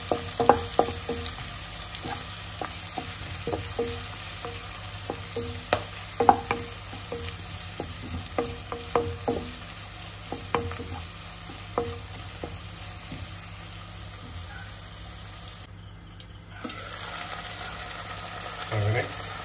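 Onion mixture sautéing in a pan for a Kuttanadan-style clam roast, a steady sizzle with repeated scraping stirs throughout, briefly softening near the end before resuming.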